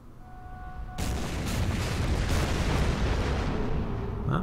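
Gunfire and explosions from the naval battle game Order of Battle Pacific, a sudden loud onset of dense, continuous rumbling fire with sharp bursts layered through, sustained to the end.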